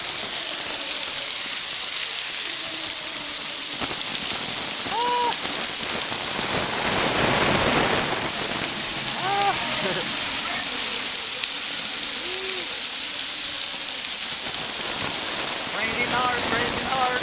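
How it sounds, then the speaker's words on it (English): Hard rain pours down beneath a waterfall in a constant, dense roar close by, with faint voices now and then under the wash. "Raining hard, under the waterfall."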